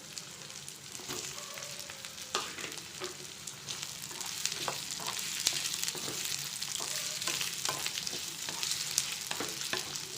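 Chopped cauliflower fries in a pan for a vegetable curry, a continuous soft sizzle broken by repeated scraping stirs of a utensil, close and moderately quiet.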